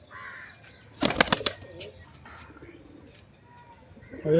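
Allahabadi breed pigeon, a male and female pair, coos softly and low after a brief loud burst of flapping-like noise; the cooing stays faint and intermittent against quiet background noise.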